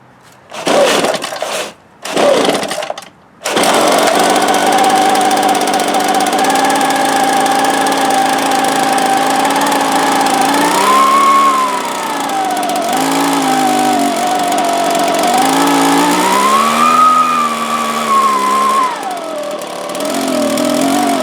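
A small two-stroke engine on an ECHO leaf blower sputters through a few short bursts, then catches and keeps running loudly close by. Its pitch rises and falls as the throttle is worked.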